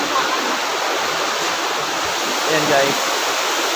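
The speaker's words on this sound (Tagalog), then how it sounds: "Tingin yung ilog nila dito. Masagana po sa tubig." A river in Mindoro Oriental rushes in a steady, loud, close wash of water that stays constant throughout. A voice speaks briefly over it.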